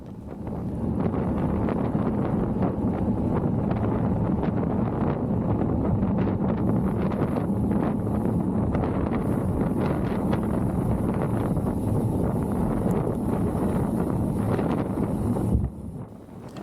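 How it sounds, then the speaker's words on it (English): Strong headwind roars across the microphone during a group bicycle ride, a loud continuous rushing buffet that barely changes for over fifteen seconds before easing at the very end. "we're heading into a very strong headwind"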